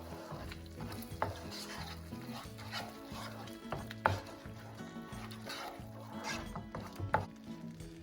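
Spices for a mushroom curry, including garam masala, ground coriander and chili powder, are stirred in a pan with a steady soft sizzle and repeated spoon scrapes and knocks, heard close and quiet, with a brief voice in the background.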